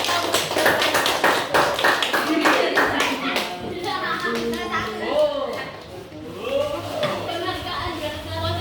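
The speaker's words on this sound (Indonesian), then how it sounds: "tepuk tangan dulu untuk teman yang" Children in a classroom clap together for a classmate, a dense run of hand claps over the first three seconds that then thins out as an adult voice takes over and keeps talking.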